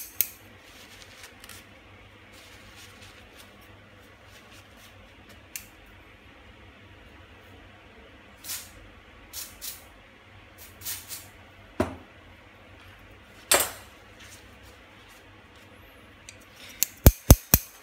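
Stiff, unoiled shears that have gone unused for a long time make a scattering of sharp, dry snips at irregular intervals, bunching into a quick run of cuts at the end, with quiet room tone between.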